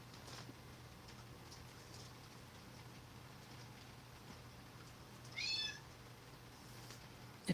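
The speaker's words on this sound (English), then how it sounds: "If you heard that meow" A house cat gives a single short meow near the middle, fairly faint against a steady low indoor hum, with no talking.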